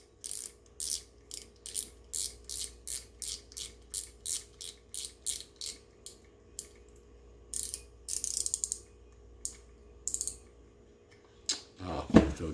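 Drag key being screwed back onto an open face fishing reel, giving a rapid series of crisp ratcheting clicks in regular bursts, close and fairly quiet, with a louder handling rustle at the end.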